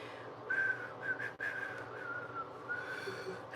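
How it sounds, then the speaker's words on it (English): A person whistles a wavering tune in short phrases, the thin tone fairly faint and close, with breathy pauses between notes and no talking. "I've been trying to learn how to whistle."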